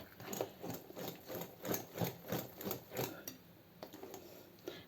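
Baghrir batter being stirred by hand with water in a bowl, a steady rhythmic swishing and sloshing close by that repeats about twice a second before slowing and thinning out, with no talking.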